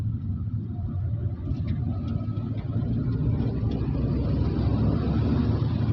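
A lorry hauling a single huge granite block through a quarry area, its heavy engine rumbling low and steady, close and loud with no talk.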